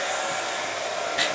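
A hair dryer blows steadily and loudly at close range, a continuous broadband whoosh with a brief surge in intensity near the end.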